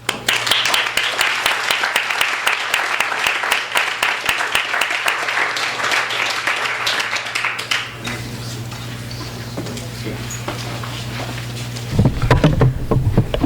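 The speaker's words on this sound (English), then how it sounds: "Now let's please give a warm round of applause to our first reader." Audience applause at a Bukowski birthday reading event at Skylight Books greets the first reader, dense steady clapping for about eight seconds before thinning out, with a low steady hum underneath and some noise near the end.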